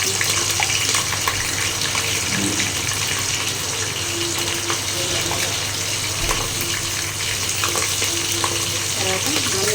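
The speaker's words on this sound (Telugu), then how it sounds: "నెక్స్ట్ పచ్చిమిర్చి వేస్తున్నా" Green chillies frying in a pan for chicken curry make a steady, dense sizzle that continues without a break, loud and close, with a faint voice underneath.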